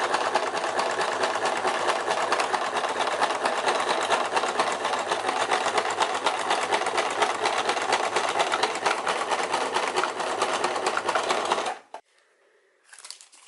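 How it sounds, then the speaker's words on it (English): A sewing machine stitches through leather in a fast, continuous rapid-fire whir, loud and close, running steadily for about twelve seconds before stopping abruptly, followed by a few faint handling sounds. "your machine is worth it."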